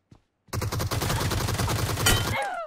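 Rapid automatic gunfire in PUBG Mobile, a loud sustained burst of closely spaced shots lasting about two seconds after a brief click, ending with ringing tails.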